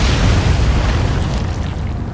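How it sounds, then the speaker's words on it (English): A torpedo explosion strikes a ship in the naval video game Atlantic Fleet, a loud, dense, rumbling boom that fills the whole clip and slowly thins. "Here comes the torpedo."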